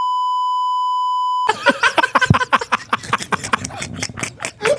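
A steady pure censor beep tone runs alone for about a second and a half, then cuts off as rapid, lively Indonesian conversation with laughter-like bursts follows.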